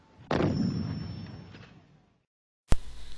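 A single loud artillery gun blast booms out and rumbles away over about a second and a half, followed after a short silence by the sharp onset of another heavy report, with no talk over it.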